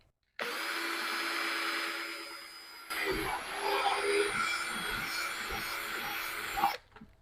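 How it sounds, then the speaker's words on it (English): A power drill bores a hole just below the rim of a bucket, a steady whirring drone that shifts pitch and grows rougher partway through as the bit bites in, then cuts off abruptly. "So I'm going to start our first hole and drill that right here."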